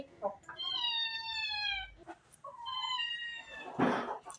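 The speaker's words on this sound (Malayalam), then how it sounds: "പൂച്ച അടുക്കളയിൽ ഏത് നേരെ പൂച്ച ഓട്ടി വിട്ടാലും പോവാത്ത പൂച്ചയാ" A cat meows several times nearby in a kitchen, drawn-out and whiny, with a brief rustle or thump at the end.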